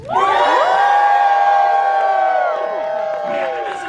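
A crowd of kids in a movie theater yells together on a count of three, a loud sustained collective shout and cheer lasting several seconds before tapering off.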